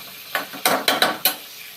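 Peas and tomato fry in a pan while a spatula stirs them, giving about five sharp scraping strokes over a light sizzle, close and fairly loud, with no talking.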